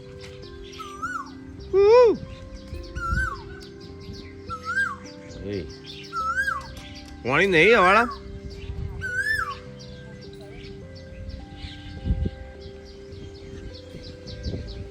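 An Asian koel calls again and again outdoors, its rising whistled notes coming at a steady pace over quiet background sounds. A voice is briefly heard talking.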